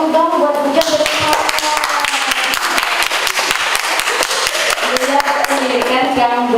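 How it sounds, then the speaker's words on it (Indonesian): An audience at a teacher's vision presentation claps in brisk, uneven bursts, the sharp individual claps loud and close, with some voices mixed in. "Kasih tepuk tangan buat Bujang bersama"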